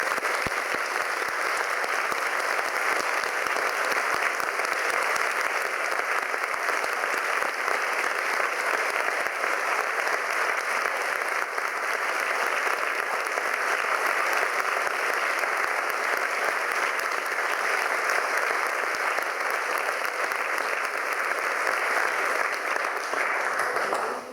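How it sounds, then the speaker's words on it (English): A large audience at a school Christmas carol service in Belfast gives a long, steady round of applause, dense and even, sustained for over twenty seconds before cutting off. "I think now would be a right time to give them all a round of applause"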